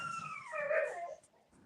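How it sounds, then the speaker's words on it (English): A dog gives a drawn-out, wavering howl, faint and distant, rising and falling for about a second before fading into quiet background murmur. "whose dog is that?"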